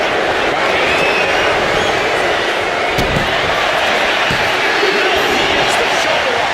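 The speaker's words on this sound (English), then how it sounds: "What a raucous crowd here tonight." A raucous arena crowd roars steadily at a WWE 2K25 wrestling match, a dense wall of cheering with occasional thuds, while a commentator talks over it.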